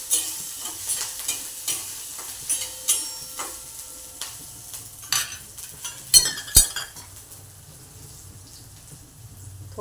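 Cucumber pieces tossed with cumin powder and asafoetida in a pan, rhythmic spatula scrapes about twice a second over a light sizzle, with a few sharp metallic clinks near the end, close and without talk.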